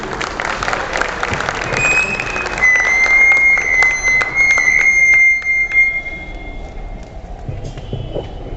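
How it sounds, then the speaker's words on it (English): An audience at an alumni meet claps, a dense burst of applause that thins toward the end, while a high whistle-like tone rings over it. "Can we have a round of applause,"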